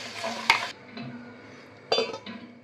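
A spoon scrapes and clinks against a pan of tomato gravy for sev tomato sabzi, two sharp metallic knocks standing out above softer stirring scrapes, close and with no voice over them.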